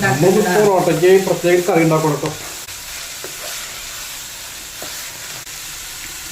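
Chicken pieces mixed and frying in a pan give a steady sizzle with soft stirring scrapes, starting under a brief voice and then continuing alone at moderate loudness.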